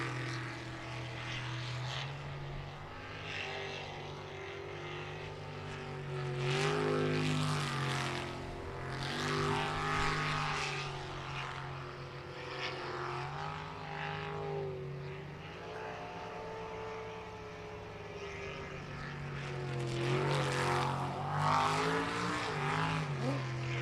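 A sprint racing boat powered by a 360 cubic inch small block Chevy engine roars as it runs the course, its engine rising and falling in loud sweeping surges with strong low harmonics, heard from a moderate distance.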